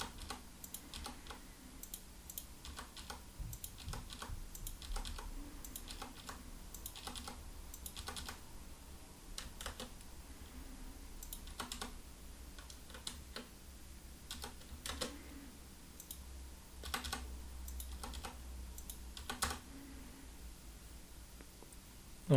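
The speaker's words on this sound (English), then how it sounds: "now I can backspace to remove the commas and the spaces" Steady computer keyboard typing with repeated backspace presses, a close, light patter of key taps that runs throughout with brief pauses and no voice.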